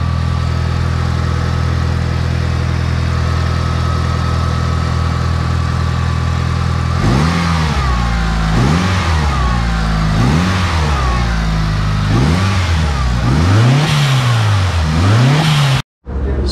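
A Mitsubishi Evo's turbocharged 4G63T engine, fitted with an EGR and SAS delete, idles steadily, then is blipped through about five sharp revs that rise and fall, loud and close.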